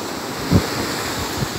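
Ocean surf washes up a sandy beach into a small dug pool, a steady rushing wash with a soft thump of water, close by and mixed with wind buffeting the microphone.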